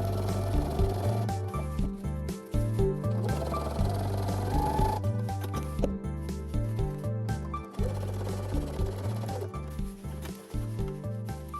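A sewing machine stitches through upcycled sleeping bag fabric for a dopp kit, its motor pulsing in a steady, close rhythm with short stops and restarts as the last bit of seam is finished.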